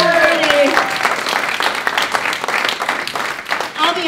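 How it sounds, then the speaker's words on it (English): A comedy roast audience applauds for Rudy Ruiz: dense, steady clapping fills the room from start to finish, with voices calling out early on and a faint cheer near the end. "Let's hear some applause for Rudy. Give it up for Rudy."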